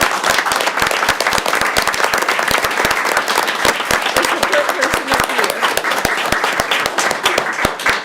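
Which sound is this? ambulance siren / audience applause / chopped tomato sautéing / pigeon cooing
audience applause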